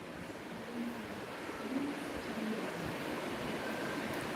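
Strong wind blows across open farmland, making a steady, broad rushing roar that holds at an even level throughout with no pauses.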